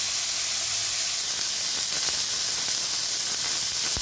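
Tomato sauce poured into a hot pan with meat hisses and sizzles loudly and steadily, a dense sputtering spray of sound with faint clicks throughout.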